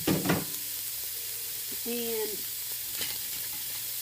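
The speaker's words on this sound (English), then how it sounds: "And onions I've chipped up, and I'm putting that in the pan." Hamburger meat and chopped onions sizzle in a hot pan for vegetable beef soup, a steady soft frying hiss close by, with a brief spoken word at the start and some clatter.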